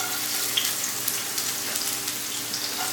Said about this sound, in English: this little onions are sizzling in there